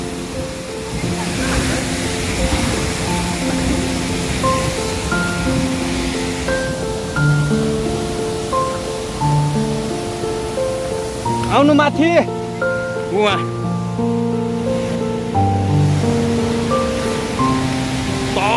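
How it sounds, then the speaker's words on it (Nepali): Bire waterfall at Martadi, Bajura, gives off a steady broadband roar of falling water throughout, kept well under loud tonal music, with a person talking over it. "बिरे झर्ना।"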